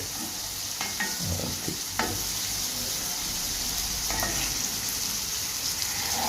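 Sliced onion and two torn dry red chillies frying in tempering oil in a pan, a dense steady sizzle with a few stirring scrapes over it, close and loud without talk.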